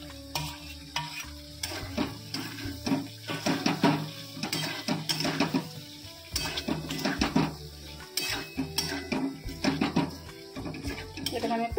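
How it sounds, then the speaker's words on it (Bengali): Cauliflower florets dropped into a hot pan of oil and stirred, with loud sizzling and repeated scraping and clanking of a spatula against the pan, near and continuous, with a voice briefly in the background. "এবার আমি ফুলকপিগুলো দিয়ে দেবো।"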